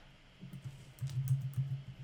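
Quiet computer keyboard typing, a few soft low clicks starting around half a second and clustering more densely toward the end, close by with no voices.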